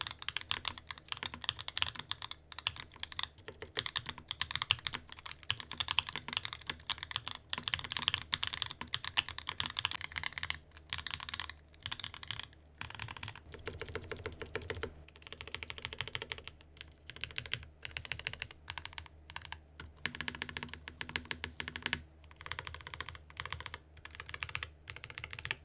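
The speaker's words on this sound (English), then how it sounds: "It kind of has like a punchy, clacky, tactile sound with these Tomorrow switches." Typing on a Mode Tempo 60% mechanical keyboard fitted with Tomorrow switches and Mode keycaps: a fast, continuous run of close, crisp clacky keystrokes with short pauses, and no voices.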